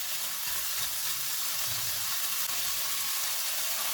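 Minced keema fries in oil on medium heat, giving an even, continuous sizzle with a faint low rumble underneath.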